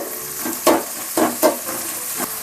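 Onions sautéing in a pan for egg curry (udacha muttai kulambu), a steady sizzle broken by several stirring scrapes, close and alone with no talk.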